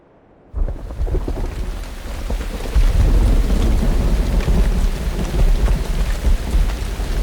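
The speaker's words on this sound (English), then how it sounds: "that was a pleasant surprise with a little bit of hail. And man, that rain, that was just beautiful." Heavy rain with rolling thunder and a little hail bursts in after a brief quiet start, then roars on as a loud, dense downpour with deep rumbles swelling beneath it.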